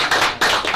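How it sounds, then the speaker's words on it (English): Brief clapping at a county fiscal court meeting, just a few close hand claps in a short burst. "That deserves applause."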